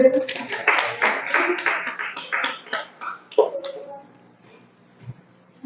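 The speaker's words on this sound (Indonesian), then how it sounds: "Sekali lagi tepuk tangan untuk kelompok" Classroom applause for a student group, a short burst of scattered, fairly close hand claps from a small number of people that thins out and fades after a few seconds, with a voice speaking over it.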